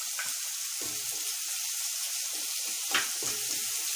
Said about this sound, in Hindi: इसमें ये ग्रीन चिली भी डाल के सॉटे कर लेंगे